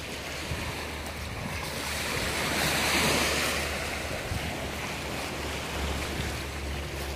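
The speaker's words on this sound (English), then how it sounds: "There's a beautiful ocean there." Ocean waves break and wash continuously on a small beach in Alicante, Spain, with a broad roaring surf that swells in the middle, and wind buffeting the microphone underneath.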